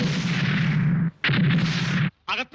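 Gunshot sound effects from a comedy sketch: several loud, booming blasts, each with a short ringing tail, the first long and the next two shorter, and no talk over them.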